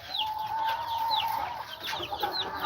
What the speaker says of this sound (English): They are by far the most superior brown laying chickens.